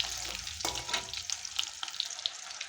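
Chicken pieces fry in oil for chicken Manchurian, a brief, quiet and steady sizzle with light crackling.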